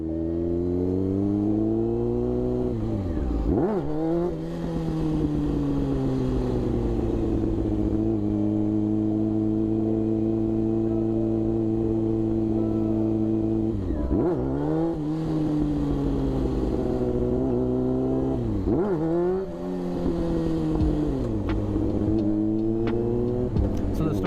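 A motorcycle engine revs hard and drops back again and again during a rider's first wheelie attempt, loud and close, with steady rising and falling pitch sweeps through the whole stretch.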